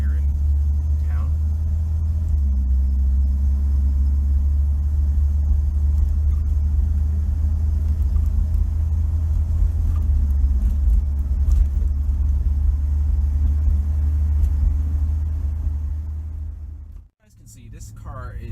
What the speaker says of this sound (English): This car is a classic little economy vehicle from the 1960s.